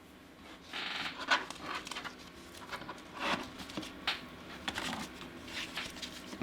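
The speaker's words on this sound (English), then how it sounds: "we're going to be opening 20 packs South Africa 2010 Panini World Cup stickers" Panini 2010 South Africa World Cup sticker packs are torn open by hand nearby, giving light crinkling wrapper rustles and quick papery flicks in irregular bursts against a quiet background.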